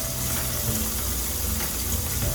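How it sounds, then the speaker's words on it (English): Cut paneer pieces seasoned with salt and chili powder fry in vegetable oil in a kadai, giving a steady, dense sizzle that runs unbroken throughout at close range. "In the same pan or kadai, add in some vegetable oil and fry the cut paneer pieces."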